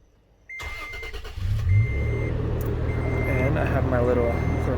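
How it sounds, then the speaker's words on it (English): A Toyota FJ Cruiser engine cranks and catches after a soft chime, then settles into a steady close idle hum with a faint rev, while a person talks over it. "And now I'm going to start the engine"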